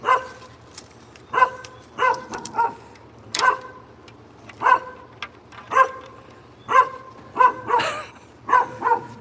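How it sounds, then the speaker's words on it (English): Dogs at home bark in a steady run of about a dozen sharp, loud barks spaced roughly a second apart, close by, with no talking over them. "And then that'll start my dogs barking"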